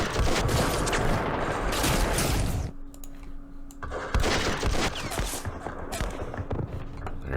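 Weapons fire in the Vietnam War strategy game Campaign Series Vietnam, a dense loud volley of shots and bursts that drops away briefly mid-clip, then resumes as continuous gunfire with sharp cracks.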